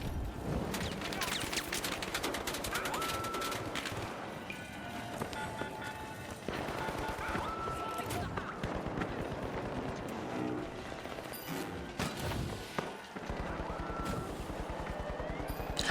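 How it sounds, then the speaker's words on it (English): Turret gunfire in the video game The Finals, with rapid bursts of shots mixed with other game effects and impacts, loud and dense throughout, with a brief pause near the end. "as the turret can shoot through the shield"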